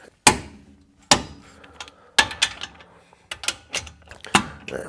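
A torque wrench with a socket works a wheel bearing bolt on a Honda Odyssey, giving sharp, close metallic clicks and knocks in irregular bursts with short pauses between them. No one talks.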